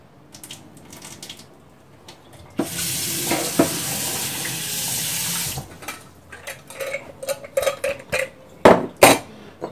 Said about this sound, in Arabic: كنخوي هذا الماء الاول